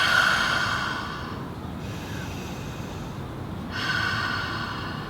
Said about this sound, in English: 3 deep cleansing breaths to finish.